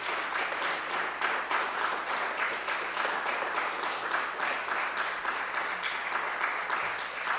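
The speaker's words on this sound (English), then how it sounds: "How about a big round of applause?" A Sunday forum audience gives a sustained round of applause for a commissioner, dense steady clapping filling the room evenly from start to finish with no talk over it.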